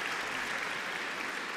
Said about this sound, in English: Okay, you all deserve a round of applause.